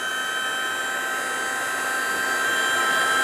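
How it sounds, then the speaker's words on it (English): A heat gun blows a steady, loud, continuous whoosh with a high whine over a resin coaster mold, holding constant and growing slightly louder at the end, with no talking. "What I'm going to do is get out my heat gun"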